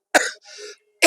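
A man with a smoker's cough from beedis gives two harsh, close coughs separated by a softer, wheezy throat-clearing rasp, with no talking.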